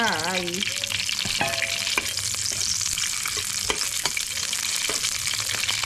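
Pork lard in a hot pan, a dense, continuous sizzle and crackle with small sharp pops throughout, close and steady, with a brief tonal squeal at the start.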